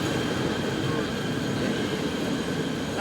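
A train rumbles steadily past on the rails at a Malaysian station, a continuous loud roar of wheels and cars, with voices faintly present under the noise.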